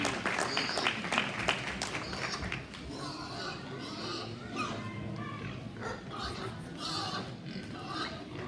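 Crowd applause for exhibitors at a January swine show, a dense patter of claps lasting several seconds in a large room, with a few sharp louder claps early on and faint voices and animal noises mixed underneath.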